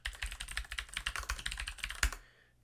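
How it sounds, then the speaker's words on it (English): Typing on Cherry MX Blue clicky tactile switches in a Thermaltake Mecha Pro mechanical keyboard, a quick, steady run of sharp close-up clicks ending with one louder key strike and a brief fade. "So starting with the Cherry MX Blue switch, I have this in a Thermaltake Mecha Pro. If I just type on it a little bit,"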